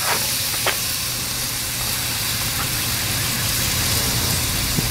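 Beef tenderloin sears in a hot pan, giving a loud, dense, continuous sizzle and hiss close up with a couple of faint clicks near the start.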